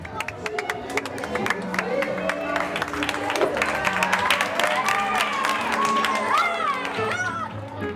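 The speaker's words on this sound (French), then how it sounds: "Et c'est sous un tonnerre d'applaudissements que le jeune couple est accueilli." Guests at a Gypsy wedding reception in a rented hall applaud and cheer as the young couple arrives, a sustained wash of clapping and crowd noise with music and chatter mixed in throughout.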